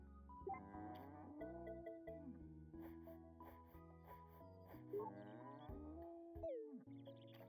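Cow mooing in the farming video game Story of Seasons: A Wonderful Life, a series of synthesized, tonal moos with rising and falling pitch, clear and close against quiet game background.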